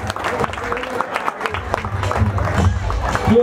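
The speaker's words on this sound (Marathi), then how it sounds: "प्रशांतजी मिसाळ म्हणजे जोरदार टाळ्या वाजवायच्या सर्वांनी." Audience clapping at a village prize ceremony for a sailboat race in Agrav, a dense burst of applause mixed with crowd murmur and voices, fairly close and loud.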